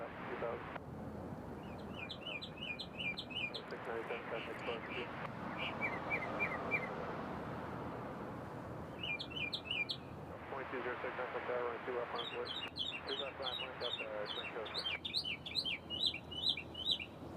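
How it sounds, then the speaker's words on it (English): Bird chirping at very close range in repeated bright bursts of song, right at the microphone near Nashville International Airport, over steady broadband background noise. "it sounds like a bird sitting right on our microphone"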